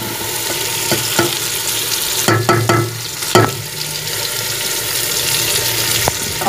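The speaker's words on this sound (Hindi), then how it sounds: "अब हम इनको अच्छी तरह से भून लेंगे।" Chopped tomatoes and green chilies frying with spices in a pan for bitter gourd sabzi, a steady sizzle with a short burst of clattering spatula strokes midway, close and fairly loud, no speech.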